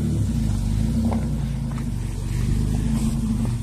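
A low, rumbling engine of an overland truck revving steadily as it squeezes its tyres up a rocky trail in British Columbia, close and continuous throughout.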